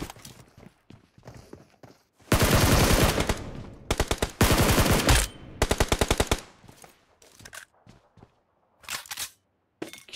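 Automatic machine gun fire in the mobile battle royale game PUBG Mobile, several loud rapid bursts of gunshots with short gaps between them and quieter footsteps and clicks in the pauses.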